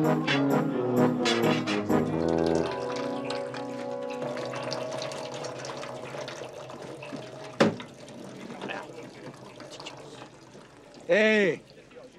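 Water gushes from an opened tap beside a working still, a steady rushing flow heard under loud talk and shouting from several people, with a sharp knock partway through and a brief squeal near the end.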